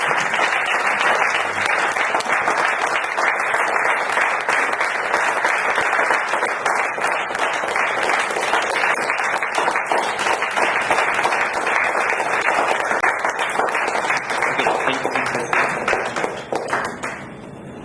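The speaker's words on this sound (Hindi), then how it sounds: "तो जोरदार तालियों के साथ मैं नवीन सिंह जी को इन्वाइट करता हूँ" Loud, sustained applause from an audience welcomes a guest onto the stage at a leadership kickoff session in Jaipur, dense clapping that continues unbroken before easing slightly at the end.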